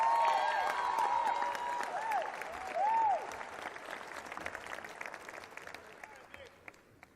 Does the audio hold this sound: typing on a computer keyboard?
no